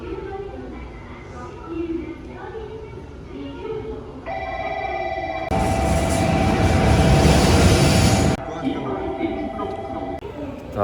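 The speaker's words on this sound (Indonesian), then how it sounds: "Kita udah ada di dalam stasiun, lagi nunggu keretanya sebentar lagi datang." Inside a Japanese train station, a train arrives with a rising rumble and rush, while a steady electronic tone and a ringing chime sound over it and background voices murmur.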